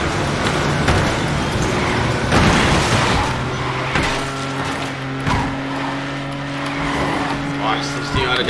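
A race car drifts in Asphalt 9, engine droning and tires screeching in long sustained tones with bursts of mechanical noise, under an excited voice talking over the game.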